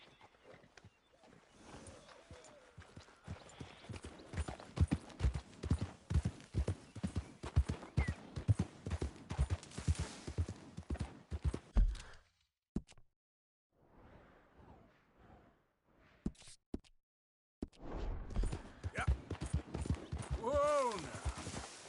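Horse hooves clip-clop steadily and close in Red Dead Redemption 2, a brisk rhythmic gait that stops and then resumes with a whinny-like sound near the end. People talk over parts of it.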